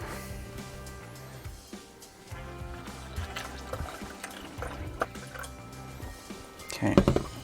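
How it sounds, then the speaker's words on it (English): Water is poured into honey must for mead, a steady trickling and dripping of liquid over a faint low hum, rising to a brief louder splash near the end. "Going to add in the majority of our water."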